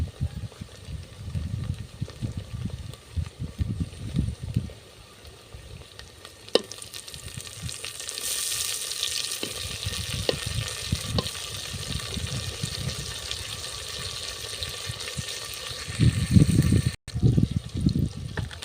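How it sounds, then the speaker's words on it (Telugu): Tomatoes go into a hot frying pan with onions already fried, giving a steady close sizzle with occasional stirring scrapes, the frying hiss swelling midway and sharper clatter near the end. "టమోటాలు వేస్తున్నాను"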